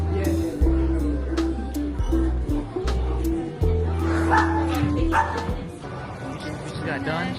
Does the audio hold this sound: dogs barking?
yes